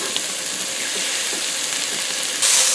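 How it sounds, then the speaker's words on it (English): Homegrown sausage and Swiss chard sizzle in a pan with a steady, close hiss. A brief louder burst of crackling comes near the end. "I'm frying up a little bit of homegrown sausage and throwing in a little Swiss chard from the garden."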